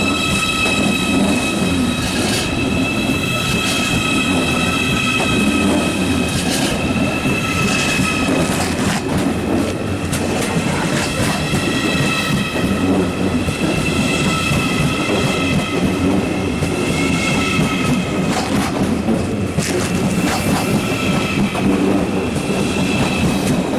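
Interior rumble of a German ICE high-speed train in motion, steady droning roar with faint rhythmic wheel clatter and occasional whining tones, continuous throughout.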